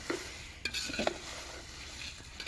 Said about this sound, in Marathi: थोडं तेल टाकून मिरच्या भाजायचं असत